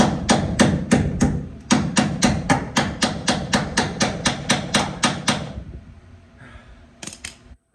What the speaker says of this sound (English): I think it's time for an actual hammer.